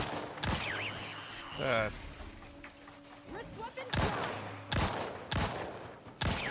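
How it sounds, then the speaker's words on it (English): Gunfire in The Outer Worlds 2, a run of sharp broadband shots in bursts, several close together near the end, over game sounds with someone talking between them. "I missed so many shots there."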